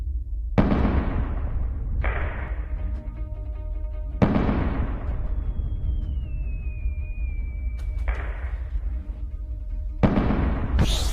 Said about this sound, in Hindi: आसमान में जब कोई पटाखे फूटते हैं